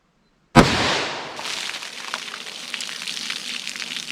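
A single sharp gunshot from an Underwood 10mm round fired into a ballistic test box, followed by a long hissing, crackling tail of debris and spatter, close and loud.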